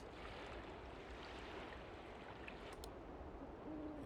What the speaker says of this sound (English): I hear a hootie and the blowfish owl. Hootie owl.